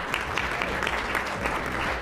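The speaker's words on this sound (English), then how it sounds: "Round of applause for her." Audience applause at a city council primary debate, a full continuous wash of many people clapping at fairly loud volume, with a low hum beneath it.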